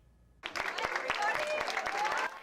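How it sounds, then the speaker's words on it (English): An enthusiastic group of campaign volunteers in Mount Pleasant, Michigan, applauds Governor Gretchen Whitmer, bursting into loud clapping and cheering after a quiet start and keeping it up at full strength. "Governor Gretchen Whitmer receiving applause from an enthusiastic group of volunteers in Mount Pleasant."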